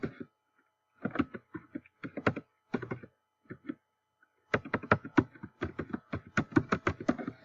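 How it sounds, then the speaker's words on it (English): Quick bursts of computer keyboard typing, crisp clicking keystrokes in short runs separated by pauses, close and clear. "I'm just typing a generic address"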